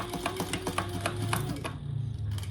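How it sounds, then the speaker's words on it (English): A sewing machine top stitches a shoulder bag in short, even bursts of needle strokes, nearby and fairly loud, then drops briefly toward quiet near the end. "let's just do 1/8 of an inch top stitch"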